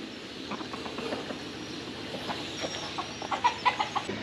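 Chickens cluck in short bursts near a coop that also holds pigeons. The clucks grow louder and closer toward the end over a low background rumble.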